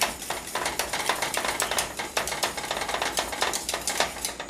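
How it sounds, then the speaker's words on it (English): Butterscotch pudding mixture whisked briskly in a bowl, a fast steady run of close metallic scraping and clinking strokes that continues without pause and with no talk. "now we're just going to whisk this into this"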